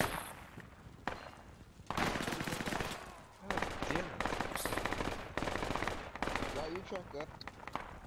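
Rapid bursts of automatic gunfire and single shots from the military shooter game Project Reality, loud and close, coming in repeated volleys with short pauses while players talk over the battle.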